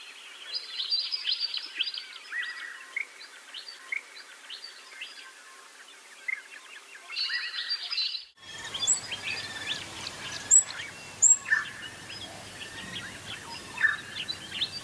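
A babbler attending a nest in Burra Sanctuary, central Australian stony shrubland, gives repeated bright chattering calls in clustered bursts, fairly close, with a brief gap before a busier stretch of chirps and background bird calls.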